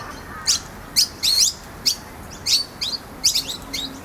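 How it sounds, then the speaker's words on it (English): Baby noisy miner birds chirp loudly in repeated short bursts as parents fly back and forth feeding them, several sharp calls spaced out over a few seconds, close by with no talking. "We've got some noisy baby miners being fed."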